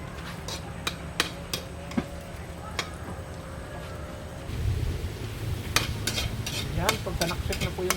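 Oil heats in a pan for cooking foraged mushrooms, with a low sizzle beneath sharp utensil clicks and taps on the pan. The frying grows louder partway through, close and steady.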